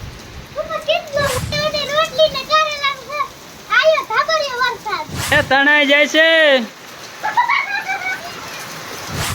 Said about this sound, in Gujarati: પણ સાથે વરસાદ આવો ચાલુ થયો હે